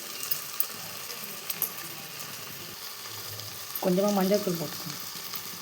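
Vegetables for vegetable rice sautéing in a pan, a soft continuous sizzle with a few stirring scrapes, under a voice giving instructions in Tamil.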